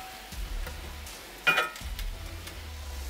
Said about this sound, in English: we just keep moving it around the pan until all the pink is gone